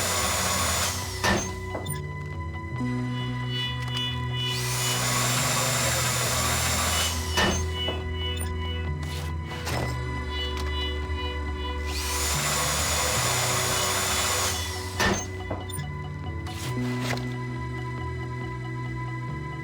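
A drill whirs in bursts during a farmhouse raid in GTA V Online, a loud mechanical drone that swells and drops over several cycles against a constant game music and ambience bed, with no talk.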